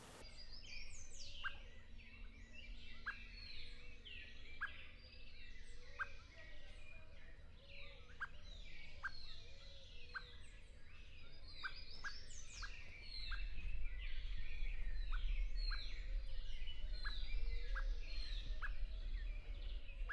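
Many birds call and sing in rapid chirps and trills at a biological station in a highland valley, a dense, continuous chorus with a low rumble growing stronger partway through.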